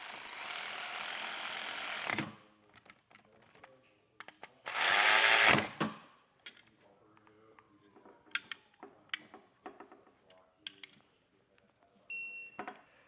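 A power tool bursts loudly for about two seconds while tightening a bolt on a Pacbrake Alpha HD Pro air bag suspension kit on a 2024 vehicle, then again briefly, with scattered tool clinks and handling noises between and a faint short tone near the end.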